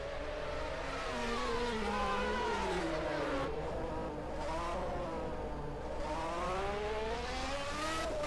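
Formula One cars racing through the chicane at the 1991 Japanese Grand Prix, a loud sustained high-revving engine scream that falls and rises as they brake and accelerate, with several cars overlapping.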